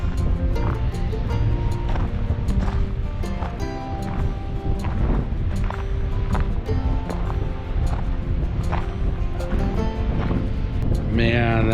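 Ocean waves rolling and washing on a windy shore, with wind buffeting the microphone throughout and a person talking over the surf.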